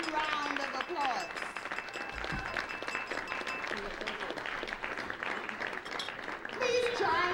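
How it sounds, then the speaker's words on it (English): Guests at a wedding reception in the Bahamas give a rousing round of applause, broad continuous clapping from a large room that carries on steadily, with voices and cheers mixed underneath. "give them a rousing round of applause"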